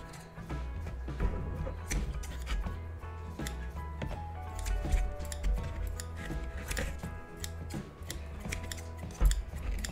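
Scissors snip repeatedly through plant roots during a root cut, a series of crisp, close cutting clicks and rustles of irregular rhythm with no talk over them.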